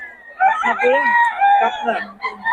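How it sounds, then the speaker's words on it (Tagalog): McLean Hatch gamefowl roosters crow close and loud in a harsh, drawn-out call, with people talking alongside. "Solid yung mga dala ni Boss Tony ngayon. McLean Hatch"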